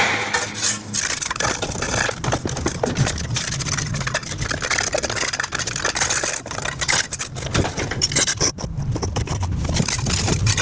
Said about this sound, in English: grab yourself whatever scraper you've got, get rid of the bolt, clean it right up